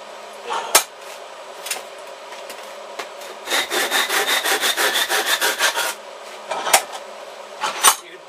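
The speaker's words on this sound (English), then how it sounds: "This probably isn't the easiest way to cut aluminium, but it's the way I do it." Rapid back-and-forth strokes of a hand saw cutting aluminium, about a dozen rhythmic rasps in a burst, with scattered clanks and knocks around them.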